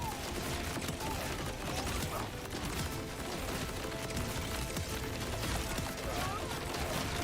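Barrel launcher fire in a video game, heard as a dense, continuous wash of rapid shots and explosions mixed with game noise throughout, with no clear speech.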